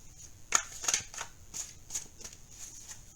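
Tarot cards are shuffled in a few quick, soft riffling bursts, close and fairly quiet, with no talking.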